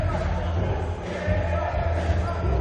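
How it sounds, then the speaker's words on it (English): Broadband crowd roar from spectators at an indoor men's league futsal match, steady and continuous throughout with a faint voice mixed in and occasional ball thuds. "And crowd getting involved."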